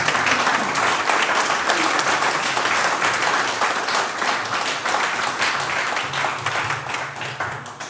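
Audience at a National Assembly member's constituency report meeting applauding a special guest, loud sustained clapping from a large crowd throughout, slowly easing toward the end.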